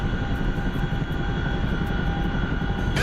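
Chinook helicopter engine in a video game, a steady loud rotor and turbine drone with constant pitch and slight rhythmic chop, running alone for the whole stretch.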